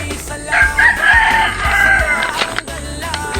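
Rooster crowing at a chicken farm, a long drawn-out call that rises and falls over about two seconds, close and fairly loud, with faint farmyard clucking and other noises around it.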